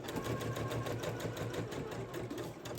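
A sewing machine stitching straight across an Ikea bag, a fast, even, close mechanical whir and rapid needle chatter running continuously without pause or voices.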